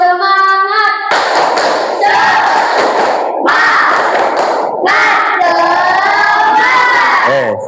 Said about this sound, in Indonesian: Lagi. Tepuk semangat.